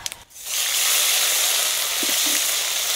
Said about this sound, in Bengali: এবার আমি দিয়ে দেবো আদা আর কাঁচা লঙ্কা বাটা